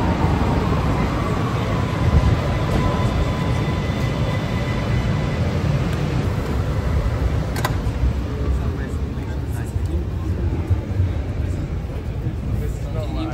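A metro train carriage rides along with a steady, loud, continuous rumble and roar throughout, while voices murmur faintly beneath the running noise.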